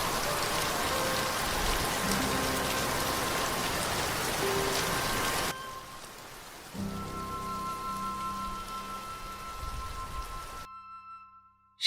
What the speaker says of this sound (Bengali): বৃষ্টির তোর ধীরে ধীরে বেড়েই চলেছে তখনও